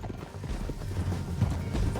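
Horse hooves clip-clopping at a riding pace across a canyon trail in the video game Red Dead Redemption 2, a steady, fairly close drumming mixed with rumbling game noise, no talk.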